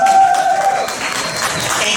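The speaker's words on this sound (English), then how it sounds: "Can y'all give her a round of applause?" At a curvaceous fashion show, a crowd applauds and cheers for a spoken-word performer, a broad wash of clapping with a brief whistle at the start, steady and fairly loud throughout.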